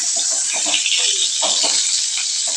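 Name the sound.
frying pointed gourd (potol) in oil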